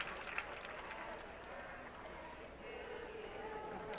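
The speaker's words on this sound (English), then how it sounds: "And now the crowd join in the greetings to Ballesteros." Golf gallery at Augusta during the Masters final round applauding Ballesteros: steady, distant spread of clapping from a large crowd, soft and continuous, with a commentator's voice over it.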